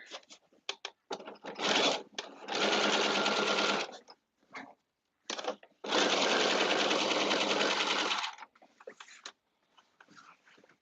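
A sewing machine stitches a caftan in two long, loud, steady runs nearby, with short starts, stops and light handling noise in between and no talking.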